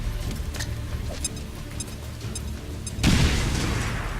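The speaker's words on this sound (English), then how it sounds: "Throwing frag." Frag grenade explosion in the video game XCOM 2: a sudden loud boom bursts in near the end, following quieter game ambience with faint clicks.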